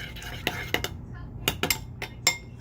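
A utensil stirs green slime in a bowl, giving sharp clinks and scrapes against the sides in an uneven rhythm, with faint whispered voices close by.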